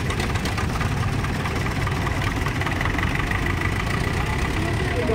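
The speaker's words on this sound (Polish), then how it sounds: "traktorek Kramer." A German Kramer tractor idles at a show, its engine giving a steady loud low chugging throughout.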